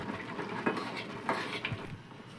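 Dry semolina being stirred in a pan, with a spoon scraping and tapping against the metal a few times in close, moderately quiet strokes.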